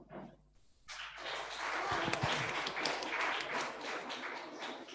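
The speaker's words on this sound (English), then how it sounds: "Let's welcome Rajendra by putting our hands together and giving him the best round of applause for a beautiful song" An audience at a church family night applauds a singer named Rajendra: a dense, sustained round of clapping swells in after a short quiet start and holds steady and fairly loud to the end.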